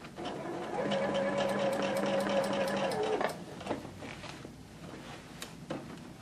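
A sewing machine stitches a skirt seam in a steady, close mechanical whir for about two and a half seconds, then stops, leaving soft handling noises and faint rustle.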